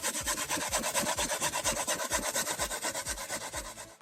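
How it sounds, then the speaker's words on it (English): Coconut being grated by hand on a new, sharp grater for a Jamaican conch soup, a steady run of quick rasping scrapes close up, about five strokes a second, with no talking. "Now I'm done grating the coconut"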